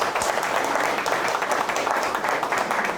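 An audience applauds staff at the opening ceremony of a Korean education superintendent candidate's campaign office, giving dense, continuous, loud clapping that holds steady for the whole stretch.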